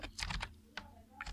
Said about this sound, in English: As I have been typing in the cells, to move from one cell to the next, I have been pressing the tab key on my keyboard.